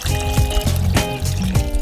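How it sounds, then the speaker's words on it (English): Water pouring steadily into a pot, a continuous splashing stream with a faint tonal ring, close and fairly loud. "Then I pour in the water."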